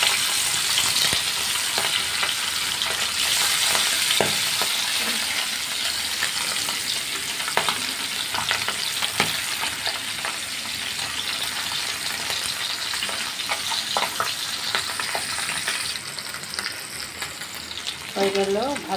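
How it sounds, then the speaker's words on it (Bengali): Tangra fish coated in turmeric, salt and chili frying in hot oil in a kadai, a constant close sizzle with scattered clinks and stirring scrapes of a spatula, no talk over it. "ট্যাংরা মাছটা ধুয়ে কুটে সুন্দর করে একটু হলুদ লবণ মরিচ মাখাই রেখেছি। এখন আমি এটা ভাজি করব।"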